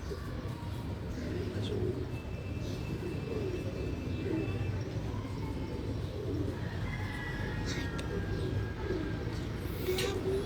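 Pigeons coo in a loft, a steady, close chorus of low rolling calls with scattered higher chirps and brief clicks over a constant busy background.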